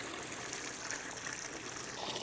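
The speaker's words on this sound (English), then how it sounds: "We got the water flow flowing. Little waterfall." Water from a pump runs over a small waterfall into a garden pond built for an aviary, a faint, steady trickling and splashing flow with no voices.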